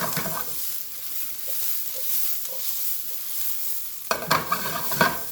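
Onions caramelizing in a frying pan give a steady, soft sizzle, with a few light stirring taps; near the end, louder clattering stirs and scrapes break through the frying hiss.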